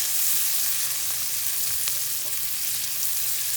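Sliced onions frying in butter give a steady, close sizzle that holds at an even level throughout, with no other sounds.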